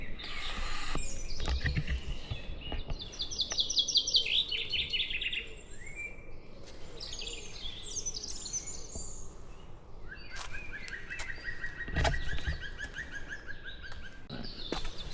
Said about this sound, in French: Il y a un oiseau juste devant moi.